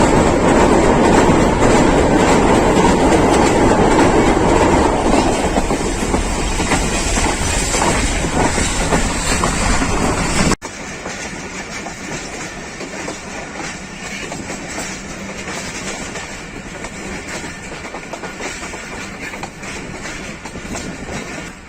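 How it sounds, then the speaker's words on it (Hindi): Rehman Baba Express passenger train rolling along the tracks between Peshawar and Rawalpindi, a loud, steady rumble with rhythmic clatter from the carriages that drops abruptly to a quieter, continuous running noise partway through. "48 डाउन रहमान बाबा एक्सप्रेस अटक सिटी जंक्शन पहुंची और फिर वहां से थोड़ी देर स्टॉप करने के बाद अपनी अगली मंजिल रावलपिंडी की तरफ रवाना"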